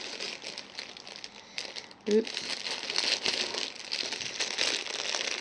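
Plastic packaging around a set of hair clippers being torn into, with steady crinkling and crackling throughout and a brief spoken word partway in.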